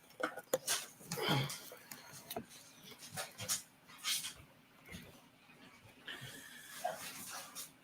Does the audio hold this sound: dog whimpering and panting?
yes